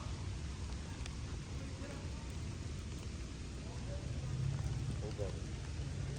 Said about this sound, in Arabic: سامعين صوت المطر؟